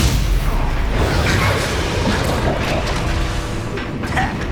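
Explosive spell blasts in the Hogwarts Legacy video game form a continuous, loud wash of booming, crackling impacts and rumble, dense and sustained throughout with no clear gaps between hits.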